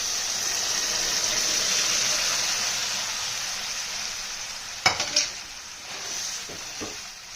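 Mashed brinjal and tomato going into a pan over softened onions, a steady hiss of frying with a few scraping stirs near the end, close and fairly quiet, no talking.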